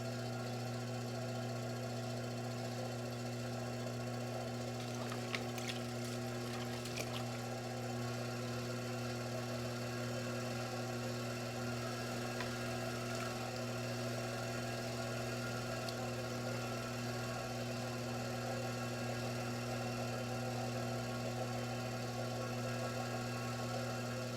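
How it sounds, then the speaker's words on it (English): A potter's wheel spins at slowed speed while a tall clay cylinder is thrown, giving a constant low motor hum and drone with faint scraping texture throughout, no voices. "you do want to slow your wheel down a little bit"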